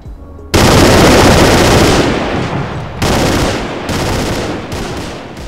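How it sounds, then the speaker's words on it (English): A heavy machine gun mounted on a Toyota technical fires in the Battlefield 2 mod game, sounding as loud, dense bursts of rapid gunfire with short breaks between volleys and no talking. "I added this Toyota with a big ass gun."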